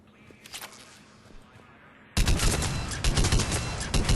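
Argus burst rifle in the video game Mass Effect 3 opens up at point-blank to short range, a loud, sustained rapid volley of close shots that begins abruptly after faint, scattered earlier shots and keeps hammering to the end.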